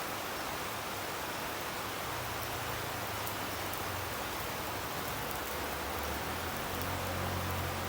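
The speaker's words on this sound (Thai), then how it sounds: "ในที่สุดฝนก็ตกแล้วนะ" Steady, dense rain pours down in Luang Prabang, a constant hiss of large drops on surfaces with no pauses or voices.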